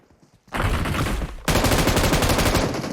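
Rapid automatic gunfire in PUBG Mobile starts after a quiet moment, then grows louder and denser, a close, sustained burst of fast shots.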